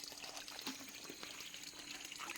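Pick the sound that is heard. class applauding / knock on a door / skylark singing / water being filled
water being filled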